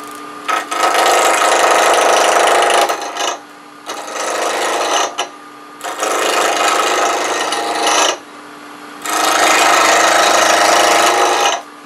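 A spindle block of wood spins on a lathe at about 1550 rpm, giving loud, steady rasping bursts as the tool cuts. Four long scraping passes, each lasting two to three seconds, are split by quieter gaps where only the motor hum continues.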